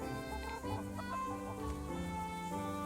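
Chickens cluck and chatter in the medieval village setting of Kingdom Come: Deliverance, a steady run of short clucks over ambient game music, moderately close.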